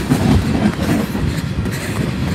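A Canadian Pacific freight train led by an AC4400CW locomotive rumbles steadily past at close range, its low-pitched roar constant and dense throughout, with no voices.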